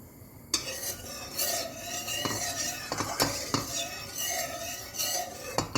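A spoon stirs sugar syrup in a pot, scraping and clinking against the metal sides in irregular strokes over a low bubbling simmer. Close and fairly quiet, with no talk.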